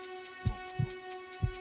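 Heartbeat sound effect in a clip being edited: a few deep, muffled thumps in an uneven pulse over a steady electrical hum, with no speech.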